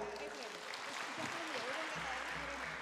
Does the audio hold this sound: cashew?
no